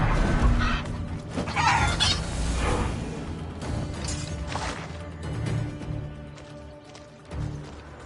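Chicken clucking in the video game Assassin's Creed Odyssey, a burst of agitated clucks and squawks with a few sharp crashes, followed by quieter game ambience.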